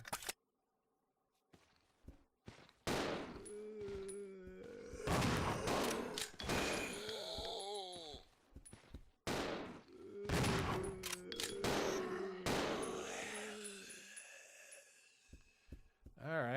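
Gunfire in a zombie video game set on a train: several sharp shots go off among stretches of talking and game sounds.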